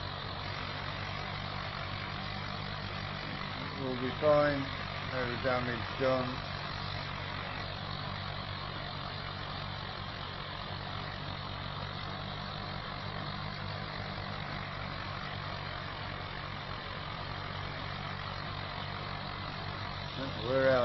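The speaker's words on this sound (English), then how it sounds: "Got the tractor through the edge a little." Tractor engine in Farming Simulator 25 drones at a low, steady pitch throughout while ploughing, with a few brief clunks and a voice talking over it.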